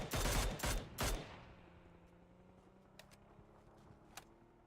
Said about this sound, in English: Headshot coming in against Cantix